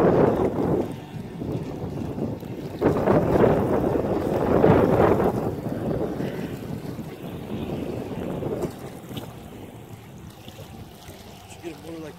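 A 25 hp Evinrude outboard motor drones on an Alumacraft boat amid heavy wind buffeting and water rush, loud and close, fading somewhat toward the end, with someone briefly talking.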